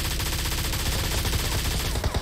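Sustained full-auto bursts from an M416 Ultimate rifle in the mobile game PUBG, a rapid, loud, even rattle of shots lasting nearly the whole stretch before a couple of final separate cracks.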